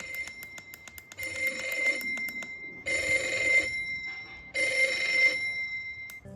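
An SM-01 sound machine alarm clock sounds its alarm, a bright electronic ringing that comes in repeated bursts with short gaps between them, heard fairly close and clear with no talking.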